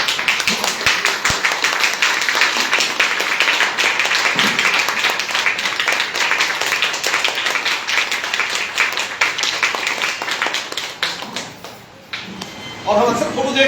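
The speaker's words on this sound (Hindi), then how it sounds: "तालियां जोरदार इनके लिए।" An audience at a company training meeting breaks into sustained applause, a dense wash of many hands clapping steadily for several seconds before thinning out, with a voice briefly heard near the end.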